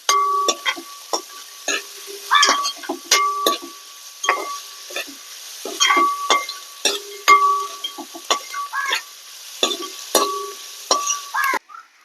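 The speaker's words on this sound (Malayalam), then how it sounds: "ഒന്നുകൂടി ഇളക്കി കൊടുക്കാം." A spoon stirs a prawn fry of ginger, garlic, green chillies and green peppercorns in a pan, making close, irregular metallic clinks and scrapes over a faint sizzle, with no talking.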